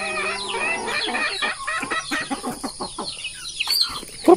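Chickens cluck and squawk close by in a busy, overlapping chorus, with a sharp louder call near the end.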